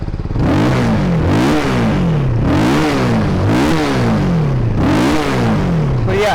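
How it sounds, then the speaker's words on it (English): A Benelli TRK 251 motorcycle engine revs repeatedly, pitch rising and falling in several loud, close bursts with no voices. "the engine literally roars"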